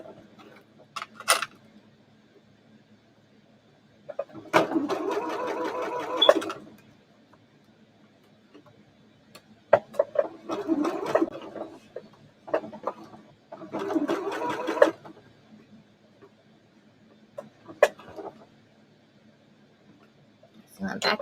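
A sewing machine back-stitches shirt fabric in three short bursts of rapid mechanical whirring, close and moderately loud, separated by pauses with brief clicks.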